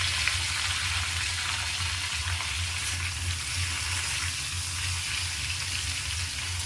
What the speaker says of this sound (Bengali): এই তেলের মধ্যে আমরা এঁচড়গুলোকে একটু নাড়াচাড়া করে নেব